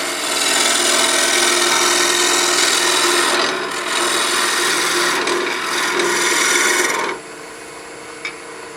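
A gouge cuts into a wooden napkin ring blank spinning on a lathe, making a loud, steady, close scraping rasp that dips briefly mid-way and then stops near the end, leaving the quieter hum of the machine.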